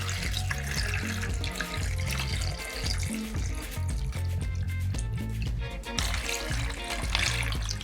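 Water pours and splashes into a plastic tub, a steady running and trickling sound at close range that lasts throughout without talk.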